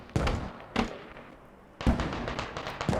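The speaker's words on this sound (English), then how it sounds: "Multiple explosions coming out." Explosions in the video game Squad during a tournament match: several sharp booming blasts, two early ones spaced apart, then a pause and a rapid cluster of bursts.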